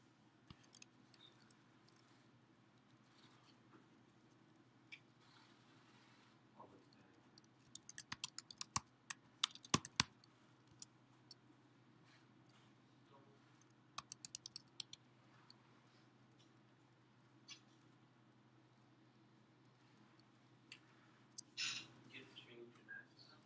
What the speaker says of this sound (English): I'm only going to type what you tell me.